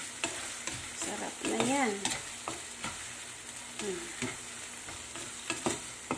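Fried sardines with egg are stirred in a pan, a steady sizzle broken by repeated spatula scrapes and taps, while someone speaks briefly in the middle.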